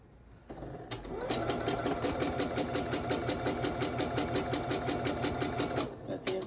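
A sewing machine chain piecing quilt fabric runs in a fast, even stitching rattle after a brief start, holding steady for several seconds before stopping, close and alone.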